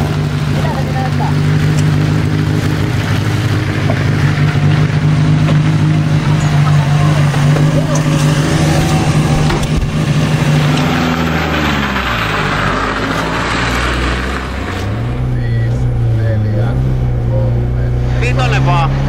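Rally car at full throttle on a snowy rally stage, engine roaring loudly and continuously with pitch rising and dropping through gear changes, heard from inside the car with voices talking over it.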